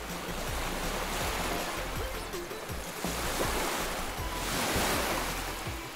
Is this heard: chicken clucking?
no